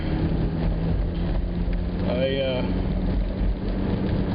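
Steady rain at night heard from inside a taxi, a continuous wash of patter and road hiss with a low rumble, faint and unbroken throughout.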